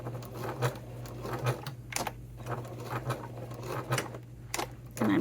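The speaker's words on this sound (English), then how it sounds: "And I'm just going to edge stitch this." A sewing machine edge stitches a fabric wallet in short, uneven bursts of mechanical whirring and clicking, separated by brief pauses, heard close up with no speech.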